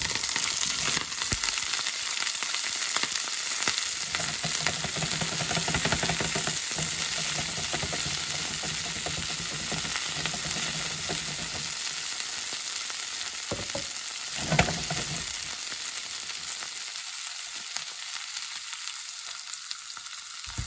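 Salmon sears and sautés in a hot pan seasoned with Creole seasoning and onion powder, giving a steady loud sizzle with occasional stirring scrapes and no talk.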